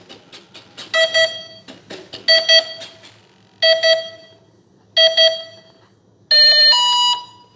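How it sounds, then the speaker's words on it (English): Electronic startup tones from a Dancing Wings Stick 14 1.4 m RC plane after its battery is plugged in: five loud, close beeping bursts with pauses between them, each a short run of rising tones, the last one longer. "Plug it in, listen for tones."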